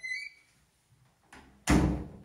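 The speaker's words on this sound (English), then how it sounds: "we shut the door" A bathroom door swings and slams shut with a solid thump after a short pause. A brief whir fades out before it and a faint rustle comes just ahead of the close.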